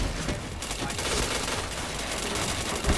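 Rapid, dense gunfire from a shooting video game, heavy bursts following one another almost without pause.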